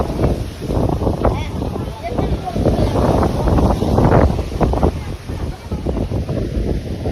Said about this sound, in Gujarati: બાઈક પવન એટલો છે ને આવ ઠંડો ઠંડો પવન થાય